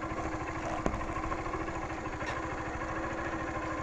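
A motorcycle engine idles steadily in a rural backland setting in Ceará, a close, continuous low rumble with an even pulsing rhythm throughout and no talk.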